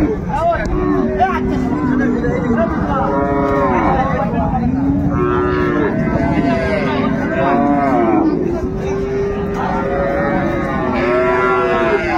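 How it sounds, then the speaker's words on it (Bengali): Cows and calves moo repeatedly at the Raniganj cattle market, with many loud overlapping lowing calls rising and falling over a busy background of crowd chatter. "এখানে কোয়ালিটি সম্পন্ন গাভী বাছুর।"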